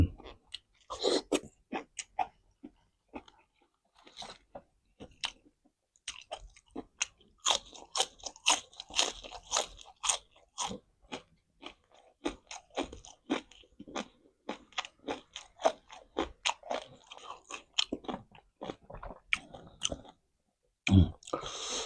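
Close-up crunchy chewing, many crisp bites in irregular bursts, loud and near, with brief pauses between mouthfuls.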